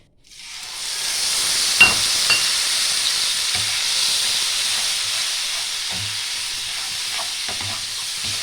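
Cumin, a little ginger powder and tomato paste fry in a pan for a Bengali pabda fish curry with mustard. A steady, fairly loud sizzle and hiss runs throughout, with a few soft stirring knocks.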